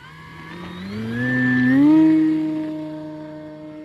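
An E-Flite Carbon Z Cessna 150T RC plane flies past, its electric motor whine rising in pitch and loudness to a peak midway, then easing lower and fading as it moves away.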